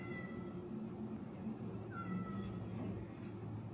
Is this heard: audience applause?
no